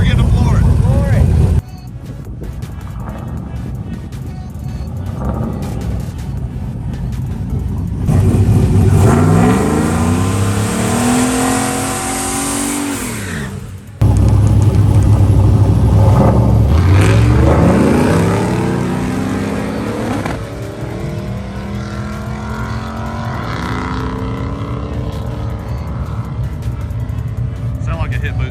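LS-swapped turbo Fox-body Mustang with a 4L80 automatic launching at full throttle, engine roaring loudly with rising revs through gear changes, a sudden cutout near the middle, then pulling hard again while people talk over it.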